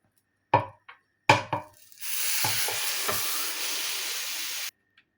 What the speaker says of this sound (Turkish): Kısık ateşte kızarıncaya kadar bekliyoruz.